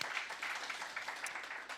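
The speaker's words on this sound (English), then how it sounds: "let's give them a round of applause" Short burst of applause for forestry partners at a workshop gathering, a room of people clapping steadily at moderate distance, fairly quiet and even throughout.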